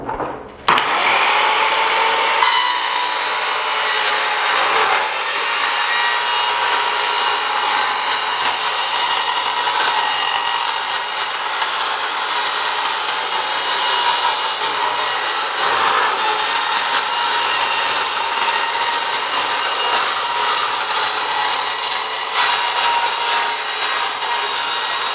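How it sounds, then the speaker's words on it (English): An Evolution multi-material track saw cutting through a 16 gauge steel roofing sheet, a loud continuous grinding, screeching whine that starts abruptly and holds steady for the whole stretch, close up with no talk. "So it did a pretty good job of cutting this 16 gauge roofing tin"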